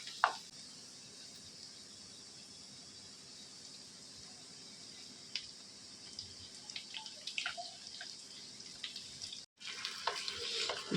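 Chicken pieces dropped into onions frying in a pan, a steady quiet sizzle with scattered pops and crackles building louder near the end.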